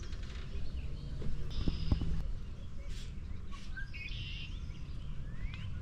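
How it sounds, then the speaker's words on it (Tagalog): Small birds chirp in short, scattered calls near a beach by a storm water outflow, faint over a steady broadband wash of water and wind, with a few louder thumps partway through. "boses ng ibon"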